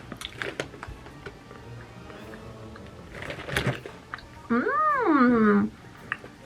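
Close-up chewing of pumpkin spice trail mix with peanuts, soft and moist rather than crunchy, in a few short bursts, with a rising and falling meow-like cry near the end.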